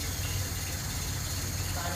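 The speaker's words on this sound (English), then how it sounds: "And it's idling at 400" A 1960s Austin-Healey BT7 3000 rally car engine with electronic ignition idles at 400 rpm with a low, steady rumbling throb, close and constant for the whole moment.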